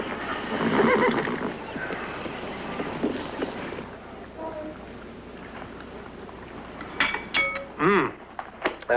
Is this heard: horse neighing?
yes